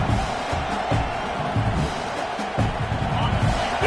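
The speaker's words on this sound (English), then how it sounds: "This crowd bringing the energy and noise early." Football stadium crowd at a Texas A&M versus Michigan game makes a dense, continuous roar of noise with scattered shouts, heard under commentary.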